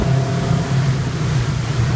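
A Blackfin 33 boat's engine speeds up at sea in a steady, loud, low drone, with rushing water and wind noise layered over it.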